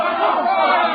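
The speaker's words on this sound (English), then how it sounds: "They're cheering for the bull." Radio-drama crowd cheering for a papier-mâché bull, a dense, steady roar of many voices yelling together for the whole second, loud and close with no pauses.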